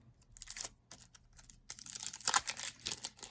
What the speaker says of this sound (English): Let me go ahead and flip through those really fast for you.